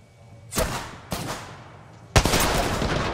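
Kraber sniper rifle in a video game firing three heavy, booming shots spaced about half a second to a second apart, close and loud, with the last blast the strongest and followed by a lingering rumble.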